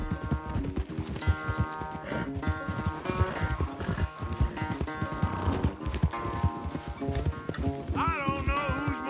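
In the video game Red Dead Redemption 2, rapid hoofbeats of a galloping horse in a race drum steadily throughout, mixed with background music and a brief whinny near the end.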